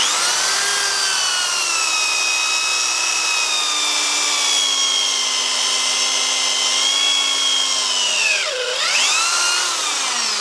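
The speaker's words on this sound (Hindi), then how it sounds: "तो आप इसके ऊपर ड्रिल मशीन को भी चला सकते हैं" An electric drill runs under load from a 1000W 12V-to-220V solar power inverter, a loud steady high-pitched motor whine that dips briefly in pitch near the end, with no talking.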